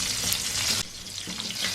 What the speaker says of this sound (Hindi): बैंगन के ऊपर वाले साथ थोड़ा सा इनको भूनेंगे